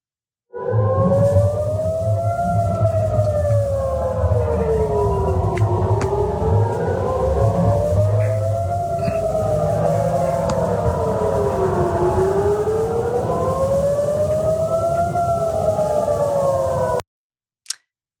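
Several air raid sirens in Tel Aviv wail together, rising and falling in overlapping slow cycles, loud and continuous before cutting off abruptly.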